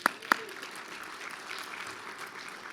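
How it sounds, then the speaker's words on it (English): Luncheon audience applauding, a few sharp claps at the start followed by a soft, steady spatter of clapping that continues at moderate distance. "join me in giving a big round of applause again to One America Financial for their generous support"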